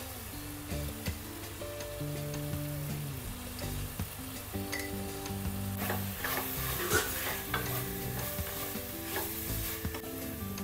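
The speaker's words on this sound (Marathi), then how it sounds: "फास्ट गॅसवर 2 मिनिटं आपल्याला असं चिकन भाजायचं आहे" Chicken sizzling and frying in a pan over a high gas flame while being stirred, a steady close hiss with scraping stir strokes, and background music playing underneath.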